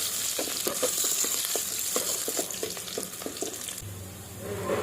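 Seventy grams of onion frying in fifty grams of oil for chicken samosa filling, a close, steady sizzle with rapid stirring scrapes, easing off near the end, with no talk.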